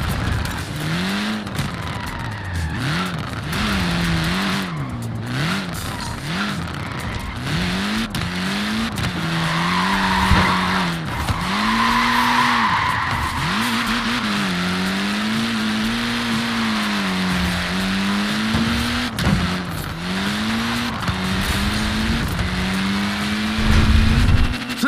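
A Mini's tiny tyres squeal and skid in the Forza Horizon 4 racing game, under a loud, steadily rising and falling engine whine that revs continuously for the whole stretch, with no talking.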